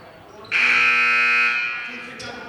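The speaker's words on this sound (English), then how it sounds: "Apparently the wall clock and buzzer went off a little too soon." A loud, harsh electronic game clock buzzer blares suddenly, too early, at a girls' varsity basketball game, holding for a couple of seconds and fading slightly over a murmuring crowd and background talk.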